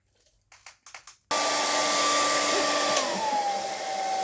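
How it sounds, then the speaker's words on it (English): A few soft taps and rustles, then a hair dryer switches on loudly and blows with a steady whooshing roar, its pitch shifting slightly near the end. "you're gonna take the blow dryer, and you're going to blow dry this for 30 seconds, 60 seconds"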